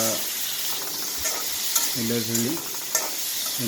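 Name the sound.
potatoes with turmeric frying and stirred in a pan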